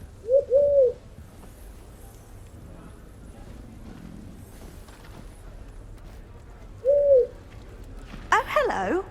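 An owl in the Hogwarts Legacy video game gives two short, soft hooting calls several seconds apart, set against a low ambient game background with a brief rustle near the end.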